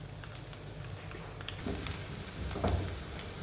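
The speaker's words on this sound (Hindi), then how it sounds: "ऑयल गर्म हो चुका है, इसके अंदर डालेंगे प्याज।" Onions hit hot oil and fry with a steady, close hiss and sizzle, with spatter crackles and a few scraping stirs that swell toward the end.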